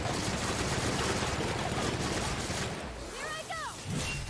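Gunfire in the video game The Outer Worlds, a dense, continuous barrage of shots filling the mix before easing off near the end.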